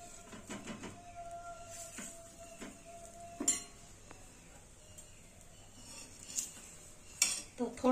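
A potato-stuffed paratha roasts in ghee on a pan with a low, steady sizzle, broken by occasional scrapes and clinks of a utensil against the pan, close by and without talking.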